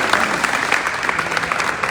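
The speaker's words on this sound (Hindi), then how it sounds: "तो जोरदार तालियां गौरी" Audience applause for a luxury-car achiever, dense steady clapping from a crowd throughout, even and sustained with no break.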